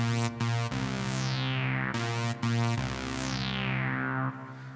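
A second synthesizer doubles a bright sync lead sound for the introduction of a track, playing repeated sustained notes with short gaps, loud and close with no voices.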